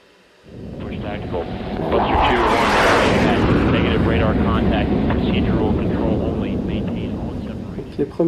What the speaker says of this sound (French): Donc les premiers sont les F-35 qui ont décollé.